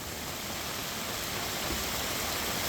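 Heavy rain pours during road tarring in Thrissur, Kerala, a dense, even roar of falling water with no breaks and no voices.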